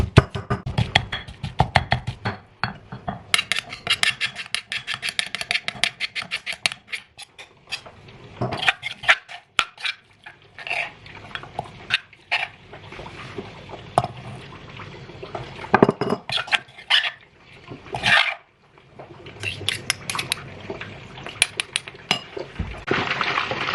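Garlic and coriander root pounded in a mortar in a home kitchen, a long run of sharp knocks and clinks in uneven bursts with brief pauses, close and fairly loud, with no talking.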